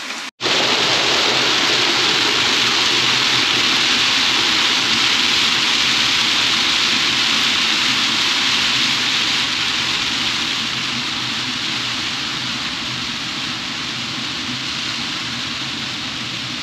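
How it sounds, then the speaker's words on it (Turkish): Heavy rain pouring down on a rainy day in Toronto, a dense, loud, continuous hiss that starts abruptly and holds steady throughout with no voices. "Bayağı yağmur yağıyor şu an."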